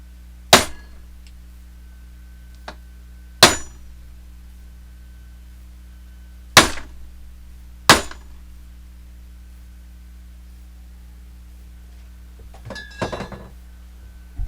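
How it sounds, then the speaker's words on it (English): A hammer strikes the edge of a handmade knife to test it, with four sharp metallic impacts spread across a quiet shop over a steady low hum, ending in a faint clinking. "I'm gonna hammer on this thing a couple times"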